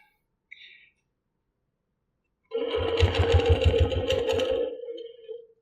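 A sewing machine stitches Baptist Fans quilt blocks in one steady, rapid mechanical burst of about three seconds that tapers off, following a brief faint tick and near silence, with no talking.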